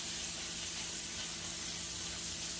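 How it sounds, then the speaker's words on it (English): Chicken searing in a pan, a continuous close sizzle with a bright hiss that holds at a steady level throughout, with no talk over it. "And let the other side sear."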